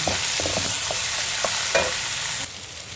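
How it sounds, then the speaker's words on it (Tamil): Ivy gourd sautéing with turmeric and chili powder in a pan, a steady sizzle with several short scraping stirs of a spatula, close and alone. "மசாலா போட்டு நல்லா வதக்கிட்டேன்"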